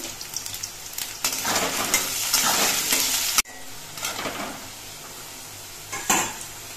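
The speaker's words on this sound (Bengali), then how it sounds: "আলুগুলো ভাজার সময় একটুখানি নুন দিচ্ছি।" Potatoes fry in oil, a strong crackling sizzle mixed with stirring and clinks of a spatula against the pan, then easing to a softer sizzle after a brief break.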